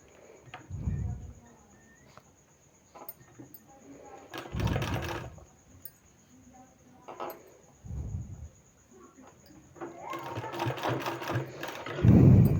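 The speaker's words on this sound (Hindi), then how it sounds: "इस तरह से इसको सिलाई लगा के बैठाते जाना है।" A sewing machine stitches fabric pieces onto paper in short bursts of rapid mechanical whirring that stop and restart, close by, with a thud at the end and a steady faint whine running throughout.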